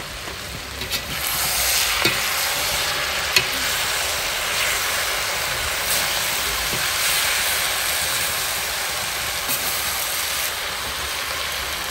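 Meat and onions sizzle steadily in a hot pan for Jordanian saj, with a broad continuous frying hiss and a few soft scrapes from stirring, close and alone without talk.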